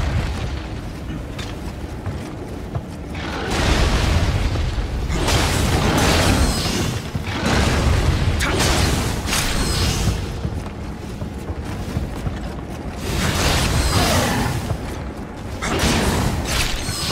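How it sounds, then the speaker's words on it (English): Explosions from the video game Nioh sound as heavy booming bursts, with loud rumbling blasts that swell and fade in waves over a constant dense game soundtrack. "That's my explosion."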